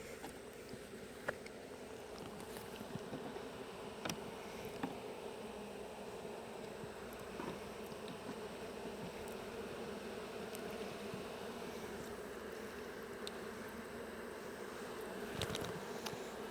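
Honey bees at a weak hive give a faint, steady buzzing hum with occasional brief clicks, quiet and continuous throughout with no voices.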